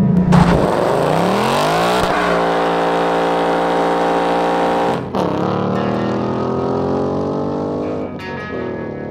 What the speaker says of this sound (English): we've come to the California desert to drive the new 2018 Ford Mustang GT